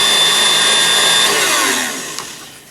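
An electric mixer beats eggs, baking powder, salt, milk, sugar and shortening into sweet corn bread batter, whirring loud and steady before fading away near the end.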